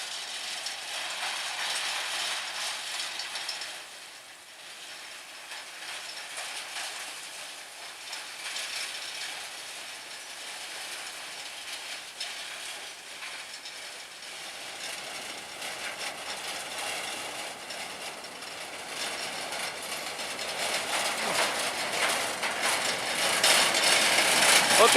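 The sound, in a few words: sugar cane railway locomotive Hokuriku number 12 running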